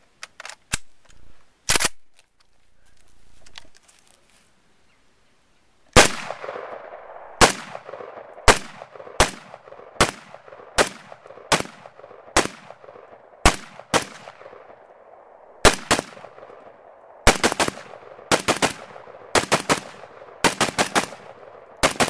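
Galil ARM rifle emptying a magazine at an outdoor range: a few early shots, a pause, then a long string of sharp, loud single reports at a steady brisk pace with faint echoes, no talk.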